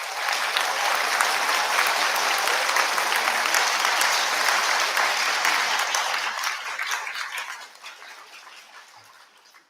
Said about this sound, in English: Could we please give your teachers a short round of applause?